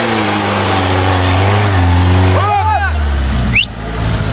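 A 4x4 off-road vehicle engine holds a loud, steady low drone and rises in pitch as it revs up a steep hill, with a short squeal near the end and talking over it.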